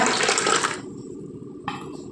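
Water poured into a pot of Kerala-style fish curry (meen kuzhambu) makes a loud, close splashing rush for under a second. After a quiet pause, a shorter second splash follows, with no talking.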